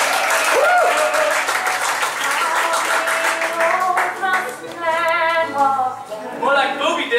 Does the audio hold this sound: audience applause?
yes